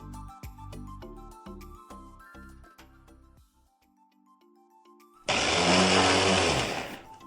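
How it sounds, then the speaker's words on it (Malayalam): An electric mixer grinder whirs loudly for about two seconds near the end, grinding a masala paste of curry leaves, coriander, ginger, garlic, tamarind water, turmeric, chili powder, pepper and salt, after a stretch of music. "കരിവേപ്പിൻ്റെ ഇല, മല്ലിച്ചപ്പ്, ഇഞ്ചി, വെളുത്തുള്ളി, പുളിവെള്ളം, മഞ്ഞൾപ്പൊടി, മുളക് പൊടി, കുരുമുളക്, സോൾട്ട്, ഇതെല്ലാം ഇട്ട് നല്ലൊന്ന് ഗ്രൈൻഡ് ചെയ്ത്"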